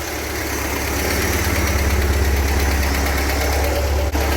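A 1970 VW Karmann Ghia engine runs steadily on a work table, its fast, even ticking valve clatter riding over a low idle rumble, close and continuous, with a brief knock near the end.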